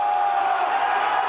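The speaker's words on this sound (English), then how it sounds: "A crowd of jubilant anti-government protesters tears down a statue of Lenin" A jubilant crowd of anti-government protesters in the Ukrainian capital cheering and shouting together as a Lenin statue is torn down, a dense, loud, continuous roar of many voices.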